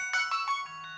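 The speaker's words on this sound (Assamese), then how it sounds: "অসময়ত ফোন আহিছে।" A phone ringtone chirps in a quick electronic melody of four short bursts, loud and close, trailing off into a steady low hum.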